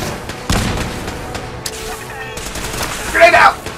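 Combat in Fallout 4 with a grenade going off: a sharp blast early on, followed by scattered gunfire and another loud burst near the end.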